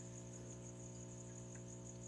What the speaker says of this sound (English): Just getting crickets.